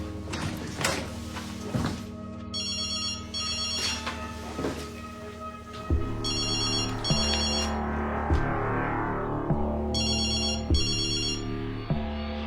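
Telephone ringing in repeated bursts of a bright electronic trill, two rings at a time with pauses between, over low music and thumping beats.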